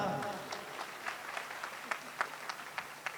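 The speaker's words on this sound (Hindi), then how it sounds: "जोरदार तालियों" At a gathering in a hall, scattered individual claps ring out fairly faintly, with uneven spacing that thins into separate sharp hand claps as the applause winds down.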